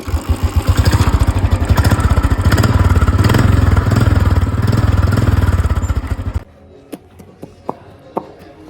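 A motorcycle with a dead battery is kick-started, giving a loud, rapid rhythmic chugging for several seconds before it cuts out, followed by a few sharp clicks in near silence.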